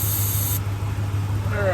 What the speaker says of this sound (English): Let me put a little starting fluid in it and just see what happens.